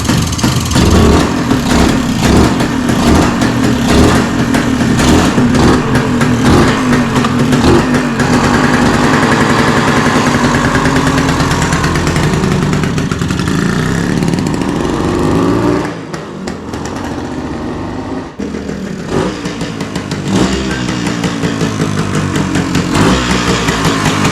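Classic motorcycle engine running with the choke on, a loud, close, buzzing putter that holds steady before abruptly dropping and then picking back up, with no talking.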